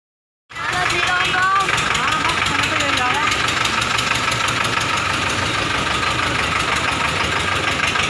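A tractor engine with a trolley attached cuts in abruptly and then idles loudly and steadily. Its rapid, knocking diesel pulse holds even for several seconds at close range.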